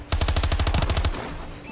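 A rapid burst of about a dozen AK-47 shots in Advanced Warfare gameplay, loud and close, evenly spaced in a fast automatic rhythm, then a short decaying tail.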